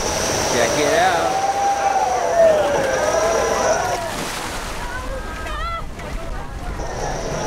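A jet boat spinning on the Rogue River, a steady loud engine roar mixed with rushing, sloshing water and spray throughout, with a person talking over it at times.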